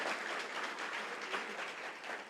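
A church congregation applauds, a dense, sustained wash of many hands clapping filling the room evenly, with no voices standing out.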